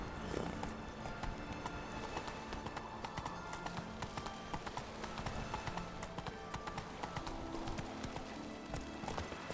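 A horse galloping in The Witcher 3 on PS4 Pro: a quick, steady clip-clop of hooves keeps up a regular rhythm throughout, fairly quiet and close, with faint game ambience behind it.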